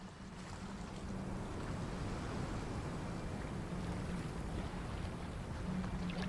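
Ocean waves at night wash steadily in a soft, distant surf with a faint wind, no voices, and a low hum running beneath.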